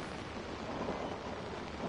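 Rain and thunder in the horror video game Outlast, a steady wash of rainfall with a low rumbling undertone, fairly faint and continuous over a short stretch without any voices.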